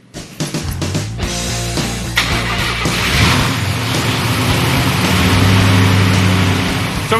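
Hot rod engine cranking up and catching, then idling and revving loudly up close, its rough exhaust note steady with surging swells.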